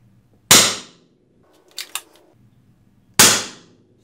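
An URAGAN Compact bullpup PCP airgun fires two loud, sharp unmoderated cracks a few seconds apart, with a brief metallic clicking as it is cycled between the shots.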